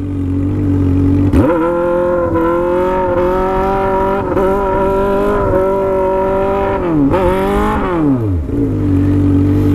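A Honda Hornet motorcycle engine revs hard and close, rising and holding through the gears with a gritty steady drone, dipping briefly between shifts before climbing again, loud and alone.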